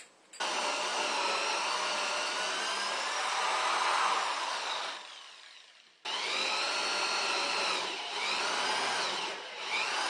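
A power drill bores into wood for a 3/8-inch carriage bolt, whirring steadily for about five seconds, winding down, then running again in a second sustained burst, close and loud.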